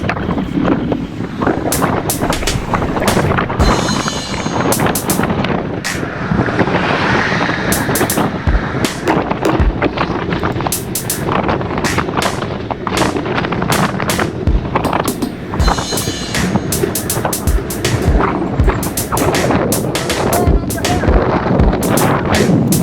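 Strong wind buffets the microphone during a group bike ride near Lake Conroe, a steady rushing roar broken by repeated sharp gusty thumps, loud and close throughout with no clear voices on top.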